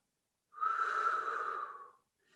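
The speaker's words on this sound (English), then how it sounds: "breathing out through your mouth" Slow, deep breath drawn in through the nose and let out through the mouth, a single soft airy exhale of about a second and a half, close and quiet, with no talking.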